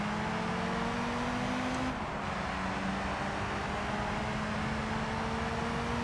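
Mazda Miata racing in a field of convertibles in Gran Turismo 3, a steady loud engine drone with a sustained tone that dips briefly near the two-second mark, then holds throughout.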